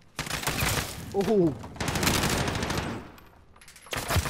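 Automatic gunfire rattles in bursts during a Call of Duty: Modern Warfare match, two long loud volleys split by a short break, with a brief exclamation and a final quick burst near the end.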